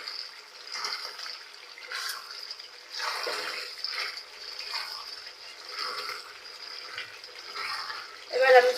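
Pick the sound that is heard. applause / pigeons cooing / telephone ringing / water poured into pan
water poured into pan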